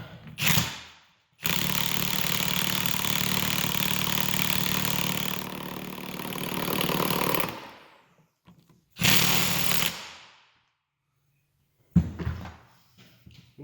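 An air impact gun torques down the big nut on a Ford NP273 transfer case with a loud, steady buzzing whir of about six seconds, then two shorter bursts, separated by silence.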